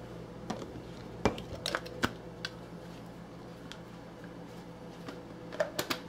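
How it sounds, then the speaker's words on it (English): Plastic blade base being screwed onto a Baby Bullet blender cup holding banana and water, giving a few sharp clicks and taps spread through a quiet stretch with no talking. "add your blade,"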